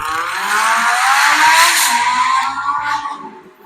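A Lamborghini Huracan accelerates hard. The loud engine note climbs steadily in pitch, peaks, then eases and fades toward the end.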